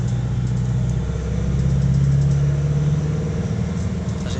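School service vehicle driving on a flyover road after finishing its run, a continuous close engine rumble with road noise, rising briefly as it accelerates before settling.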